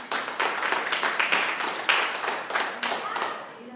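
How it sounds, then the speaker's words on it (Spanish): A church congregation applauds in praise of the Lord, a dense burst of many hands clapping together, fairly close and steady, with a voice heard in the middle of it. "Denle un aplauso al Señor"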